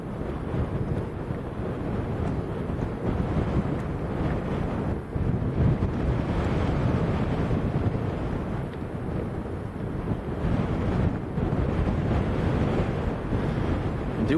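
Strong crosswind at Lanzarote Airport roars loudly and continuously across the microphone in a heavy, rumbling rush, rising and falling slightly.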